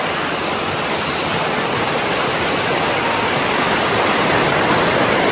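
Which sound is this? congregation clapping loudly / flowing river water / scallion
flowing river water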